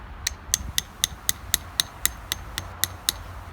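A hammer taps a metal spile into a hole drilled in a maple tree, about a dozen sharp, ringing metallic strikes in a steady rhythm, close and clear over a quiet outdoor background.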